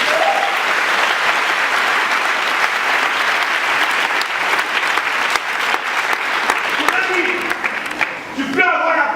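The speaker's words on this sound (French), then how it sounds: "Est-ce qu'on peut acclamer le Seigneur?" A church congregation applauds and cheers for the Lord, with loud sustained clapping from a large crowd, mixed shouts and voices throughout, and a preacher's voice emerging near the end.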